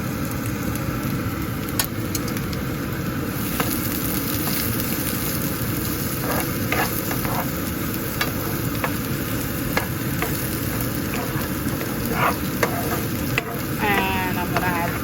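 Onions and green chilies sauteing together in a pan with a little oil for a yogurt-okra side dish, giving a steady close sizzle throughout with faint clinks of stirring and no talking.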